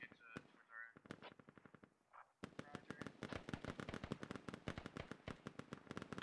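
Rapid gunfire from the tactical shooter game Squad, with dense bursts of sharp shots cracking in quick succession, loud and close, and voices faintly underneath.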